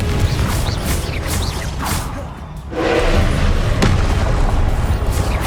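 Spell explosions from the Confringo fire spell in the video game Hogwarts Legacy: loud booming blasts and whooshes over continuous game noise, with a sharper burst near the middle.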